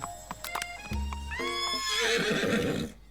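A horse in a Colonel Sanders dating video game gives a loud, close whinny with a falling pitch, and hoofbeats clip-clop around it. A short horse snort or blow comes before the neigh, and everything stops suddenly near the end.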